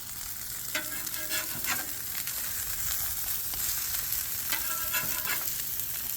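Eggs frying in oil in a cleaned pan, a constant close sizzle with a few scraping utensil strokes, no voices.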